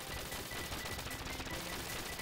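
Dense, continuous rapid-fire submachine gun bursts from a helicopter in the arcade shooter Gunforce, a loud crackling barrage filling the whole moment with no pauses.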